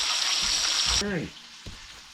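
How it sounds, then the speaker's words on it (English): Tomahawk steak searing in a hot pan, a loud steady sizzle that cuts off abruptly about halfway, leaving quiet room sound with a brief voice and a soft knock. "While Lindsay sears that up"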